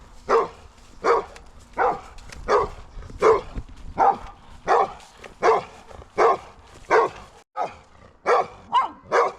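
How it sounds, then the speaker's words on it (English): A guard dog near Kinfauns in Scotland barks angrily, about a dozen loud, close barks in a steady repeated rhythm with one brief break, and no talking. "Uh-oh, here comes the dog. The angry dog hates me."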